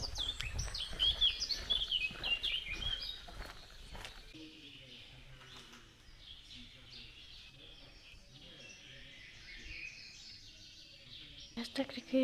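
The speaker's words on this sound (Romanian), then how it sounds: "Ce cântă păsările?" Birdsong outdoors at Gelati monastery in Georgia, bright chirping calls high up amid footsteps and people talking, fading to a quieter ambient stretch with occasional distant chirps.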